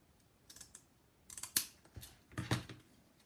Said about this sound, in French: j'ai coupé un deuxième morceau de craft. Et je viens couper les bords